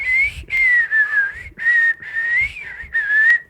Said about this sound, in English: my worst talent, is whistling